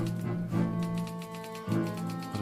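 Typewriter keys clatter in a radio drama scene, a steady run of mechanical strikes with occasional heavier thumps, close and fairly loud with no voices over it.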